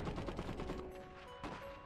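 Sustained machine-gun and rifle fire crackles in a dense, rapid stream during a real-time strategy battle in Iron Harvest, steady and moderately distant, with no talk.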